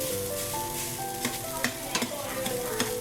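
Rice is stir-fried in a hot pan for spicy green chili fried rice, a steady close sizzle with a few scraping stirs, under faint background music.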